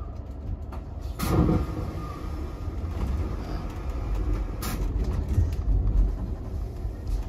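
A train in a rail yard makes a steady low rumble throughout, with a couple of brief sharp clanks or squeals rising above it.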